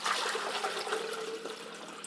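Water poured into the basin of an Almond Cow milk maker, a close, steady splashing and trickling stream lasting about two seconds.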